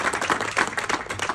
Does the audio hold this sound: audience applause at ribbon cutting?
yes